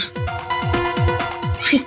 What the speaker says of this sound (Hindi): आप तो मोबाइल की रिंगटोन निकाल रहे हैं